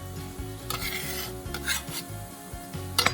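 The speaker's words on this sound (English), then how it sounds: "I'm gonna add to it 2 cloves of garlic that are minced up really small. It's gonna cook in that fat, and a sprig of rosemary." Two cloves of finely minced garlic and a sprig of rosemary cook in fat in a pan, giving a light sizzle under repeated scraping and stirring strokes, close and moderately loud, with no talking.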